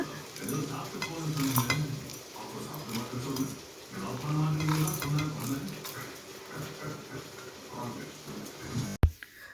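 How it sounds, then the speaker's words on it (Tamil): Whole spices and cumin roast dry in an empty kadai, with soft rattling and scraping as they are stirred, a faint crackle beneath and a brief clank near the end. "வெறும் கடாயில் போட்டு இது வறுத்து எடுத்துக்கோங்க"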